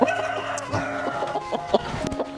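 Chickens cluck and a rooster calls in repeated bursts, fairly close and loud, as the birds seem to have been fighting; there is no speech over them.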